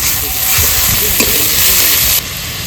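Radhuni seeds and garlic paste spit and sizzle steadily in hot oil left from frying fish, a dense close crackle with faint stirring that drops slightly in level near the end.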